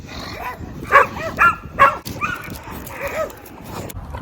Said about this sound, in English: Do y'all hear the dogs in the back?